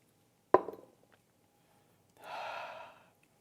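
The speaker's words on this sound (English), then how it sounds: "A tiny wetting of your palate, swallow, exhale" A short sharp gulp or gasp, then a quiet pause and a soft breathy exhale lasting under a second, made after swallowing a small sip of Old Forester Rye 100 Proof whiskey.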